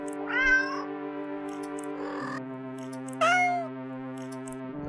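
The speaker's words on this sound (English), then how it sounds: "The sounds of happy cats munching away at your fish fills your ears." Happy cats in a video game meowing over a steady sustained musical drone, two clear rising meows standing out near the start and middle, no munching evident.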